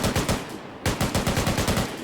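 Machine gun fire in a military combat game set during a Russian invasion of Chernagorsk, loud rapid bursts of evenly spaced shots with a brief pause between two strings.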